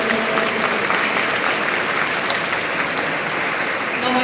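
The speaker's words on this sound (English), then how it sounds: "Can we give a big round of applause to all of them?" Dense, steady applause from a school audience fills the space for several seconds, a continuous wash of many hands clapping at even loudness without letting up.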